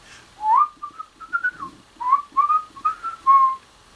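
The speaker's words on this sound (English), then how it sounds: "can you whistle?" A person whistles a short, wavering tune of several held and gliding notes, close and clear in a quiet room, with no talking over it.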